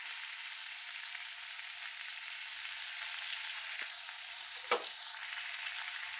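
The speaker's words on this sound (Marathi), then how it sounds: "आणि उडदाची डाळ, कारण चांगली तेलात फ्राय झाली पाहिजे ना आपली डाळ" Onion, tomato and urad dal fry in oil for upma, producing a continuous bright sizzle with a soft clatter near the end, no talking.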